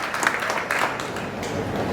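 An audience claps at an event at an agricultural university in Jhansi, a dense, steady patter of many hands lasting a couple of seconds.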